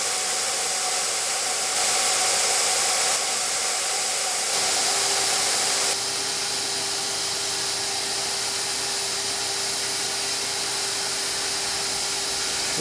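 Spray gun laying a primer coat on the body panels of an Allis Chalmers 310 tractor, a steady broadband hiss that holds throughout with two slightly louder bursts early on, close and alone.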